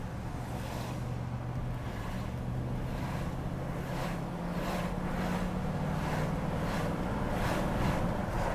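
A 1972 Lincoln Continental MKIV with a C6 automatic transmission cruising on the road, producing a steady low rumble of engine and road noise with continuous wind buffeting across the microphone throughout.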